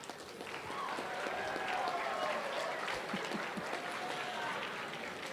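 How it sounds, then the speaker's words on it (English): An audience at an academic decathlon superquiz claps for the students in a sustained, even round of applause, with a faint murmur of voices underneath. "All right, round of applause."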